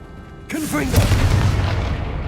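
A Confringo blasting spell explodes in Hogwarts Legacy with a sudden loud boom and crackling blast, followed by a sustained rumbling roar, with a brief voice just before the blast.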